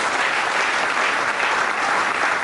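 Church congregation applauding during a French-language sermon, a steady, dense wash of clapping from many hands, sustained and even throughout with no voices standing out.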